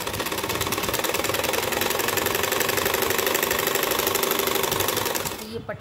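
Sewing machine running steadily for about five seconds while stitching a strip onto a blouse, a continuous rapid mechanical rattle that stops abruptly near the end.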